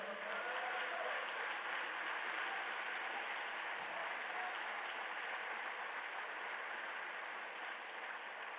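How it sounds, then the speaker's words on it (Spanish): Church congregation applauding the Lord, a steady dense wash of clapping with no break. "Dale ese aplauso al Señor."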